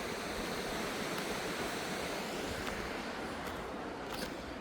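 A waterfall in snowy mountains gives a faint, even rushing hiss that holds steady throughout, heard from a distance with no one speaking.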